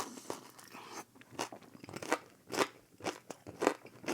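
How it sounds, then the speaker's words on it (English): Crunchy bites into a Filipino Ilocos empanada, a series of sharp, close crackling crunches and chewing sounds coming every half second or so, with no talking. "That crunch at the end is my favorite part."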